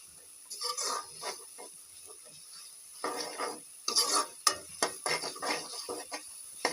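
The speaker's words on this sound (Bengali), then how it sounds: "এবার মশলাটাকে ভালো করে কষাতে হবে, কিছুক্ষণ সময় নিয়ে ভালো করে কষাতে হবে।" Spices being stirred and fried in a pan for Bangladeshi chotpoti, with intermittent scraping of a spoon against the pan in short bursts and a soft sizzle underneath.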